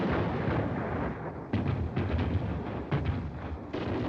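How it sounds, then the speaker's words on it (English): Continuous rumbling, broadband roar with bursts of heavier booms, like sustained distant gunfire or shelling, from a 1941 film; loud and dense throughout, no talking. "The colonel's kind of early with his gunfire."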